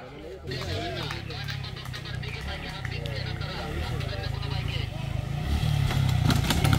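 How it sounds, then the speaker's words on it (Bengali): A dirt bike on a trail track at a bikers' fest in Comilla, its engine buzzing in the distance and growing steadily louder as it approaches, beneath nearby talk and crowd chatter. "ওইদিকে হচ্ছে আরেকটা বাইক আসতেছে"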